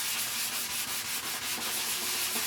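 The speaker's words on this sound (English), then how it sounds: "we're going to get some sanding here until we get this down to get all the shine off." Continuous abrasive sanding of lacquer off a guitar body, a loud, close, rhythmic rubbing scratch against a hard surface with regular back-and-forth strokes.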